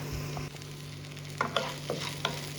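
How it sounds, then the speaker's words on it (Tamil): Whole spices such as cinnamon, cloves, cardamom and poppy seeds roast in oil in a pan over a medium flame, with a steady low sizzle and a few soft scrapes of stirring, no talking. "இப்போ வந்து இந்த மசாலாவை நல்லா வறுத்துக்கலாம்."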